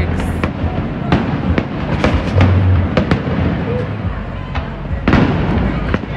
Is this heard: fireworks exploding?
yes